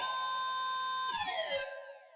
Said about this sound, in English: The shrill sound of a siren rang out loudly.